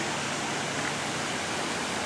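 Creek water of Leatherbark Run spilling over a small built dam, a steady, dense rushing wash that fills the whole moment without pause, close and fairly loud, with no voices over it.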